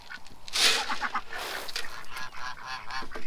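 Ducks honk and quack in loose, overlapping bursts at a corn feeder. The calls are fairly close, busy and continuous, with no talk over them.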